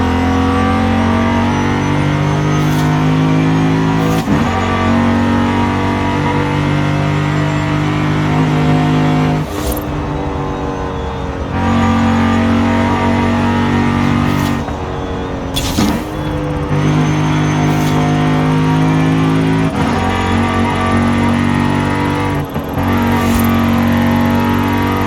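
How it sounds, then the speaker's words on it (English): A loud, deep Lexus V8 race car engine in Forza Horizon 5 drones steadily, revving and shifting pitch with brief dips between gears. "one of the best sounding V8s in this game"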